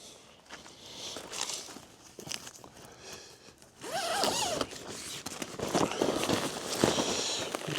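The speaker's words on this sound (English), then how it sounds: "And we're gonna zip them." Tent window zippers on an RBM tent pulled shut, giving long raspy zipping strokes with rustling fabric and some shuffling, moderately loud and close, with no talking.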